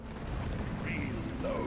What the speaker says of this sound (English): Stand back, supply pod inbound.